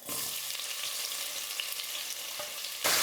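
Sliced onions fry in a pan with spices for tomato rice, producing a steady close-up hiss and crackle that swells louder at the very end.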